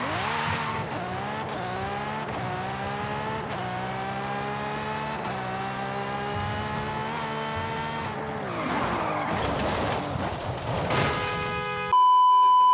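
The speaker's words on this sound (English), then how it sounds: "much better car sounds, which are probably some of the best I've heard in any racing game" Forza Horizon 5 car engines roar and rise through gear shifts, with tires squealing and skidding near the end, loud and continuous, ending in an electronic beep.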